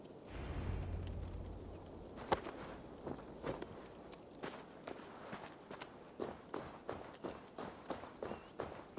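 Horse hooves plod in the Assassin's Creed Valhalla video game, a steady series of clear hoof falls on hard ground. They begin after a brief low rumble and keep a walking rhythm, fairly close, with no talk over them.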